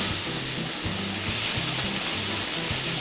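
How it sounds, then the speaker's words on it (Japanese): Salt-grilled Pacific saury (sanma) sizzles steadily and loudly as its skin crisps over the heat. The crackle is constant and close, with a faint low tonal pattern running underneath. "サンマの皮面も香ばしく焼けてきました"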